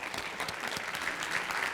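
A conference audience breaks into dense, even applause, many hands clapping at once in a steady wash, moderately loud and close, with no speech over it.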